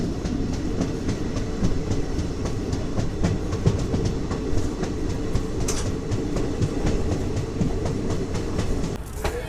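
Gangasagar Express passenger train running on the Jaynagar to Sealdah route, a steady loud rumble of wheels on rails with rhythmic clickety-clack joints throughout, heard from on board.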